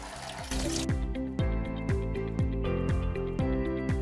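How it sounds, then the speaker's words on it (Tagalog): Clean treated water pouring steadily from the outlet of a vertical helophyte filter system, a continuous close splashing flow with a faint rhythmic pulsing under it and no talk. "ngayon nandito na yung portion ng filtration system kung saan lumalabas yung tubig na malinis"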